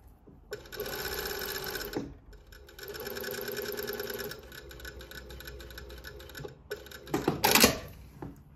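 Sewing machine running gather stitch rows on fabric for a tutu skirt: close, steady whirring bursts with harmonic buzz, two long runs separated by brief pauses, then a shorter stop-start stretch ending in a sharp clatter.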